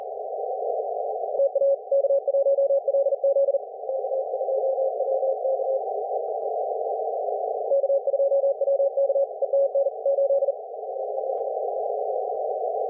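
Morse code sidetone during an amateur radio contact, a steady, clean tone with two bursts of rapid keyed dots and dashes over a continuous carrier, alone without voices.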